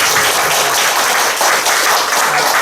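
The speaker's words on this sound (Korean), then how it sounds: "박수로 환영하겠습니다" Congregation applause during a Sunday church service, welcoming and congratulating a member on a university graduation, loud, dense clapping from many people, steady and continuous throughout.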